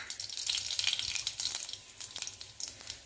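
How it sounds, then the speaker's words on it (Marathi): Cumin and mustard seeds fry in hot oil, giving a soft, continuous crackling sizzle with small popping spurts throughout. "तेल इथं छान गरम झालेलं आहे, त्याच्यामध्ये आपल्याला थोडेसे जिरे आणि मोहरी टाकायचे।"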